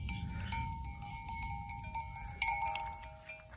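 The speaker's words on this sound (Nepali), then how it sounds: "भैँसी चरिरहने घन्टी बज्दै" Bells hung on grazing buffalo clank and tinkle irregularly on a village hillside, a series of bright metallic rings over a low outdoor rumble, fairly faint and without talk.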